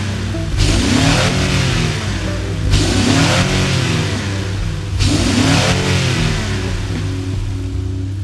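Honda Ridgeline 3.5L V6 fitted with a high volume intake duct and resonator delete, revved repeatedly from a steady idle in several loud, rising-and-falling bursts, heard close up with no talking.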